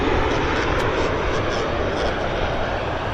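Airliner coming in to land at Vancouver Airport, a steady broadband engine roar that holds loud and continuous throughout, with faint voice-like traces mixed in.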